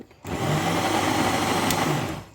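A blender blending a tahini mixture with added oil whirs loudly for about two seconds, a steady grinding roar that starts abruptly and fades out at the end.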